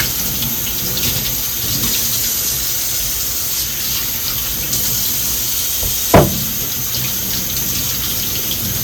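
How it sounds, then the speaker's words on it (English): Vegetables rinsed under a running kitchen tap, a steady close rush of water that continues without pause, with one brief splashy knock near the end and no voices. "let's go ahead and get these washed and peeled."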